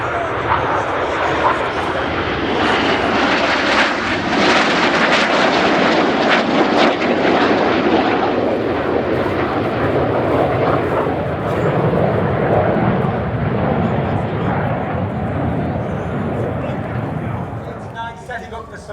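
Royal Air Force Red Arrows jets flying a formation display at RIAT 2024, a loud continuous roar that swells and sweeps past overhead for the whole stretch, with a commentator talking over it.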